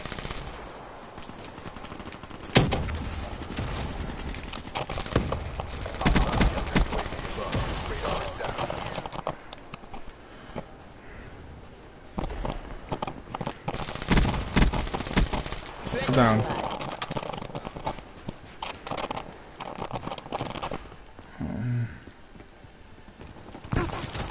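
Electric gun firing in Call of Duty Black Ops 3, repeated bursts of rapid fire in a busy, noisy stretch of battle, with other game sounds and footsteps throughout.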